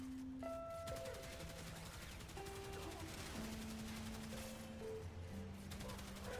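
A lethal turret weapon in a video game firing sustained rapid bursts, a dense mechanical rattle running the whole time under tonal game music and effects, moderately quiet in the mix.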